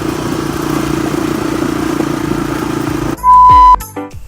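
A 1980 Honda XL250S enduro motorcycle runs with a steady, buzzing single-cylinder engine note that is fairly distant, then a sudden loud, close burst of sound cuts in near the end.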